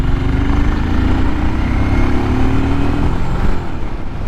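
A 2023 Royal Enfield Scram 411 single-cylinder motorcycle engine under riding load, a loud, steady thrumming drone with rising pitch as it accelerates, close and continuous with wind noise and no talk.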